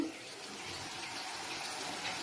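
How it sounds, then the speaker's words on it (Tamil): A steady hiss of crab curry bubbling and boiling in a pan, constant and moderately loud without any talk. "நல்லா கொதிக்குது."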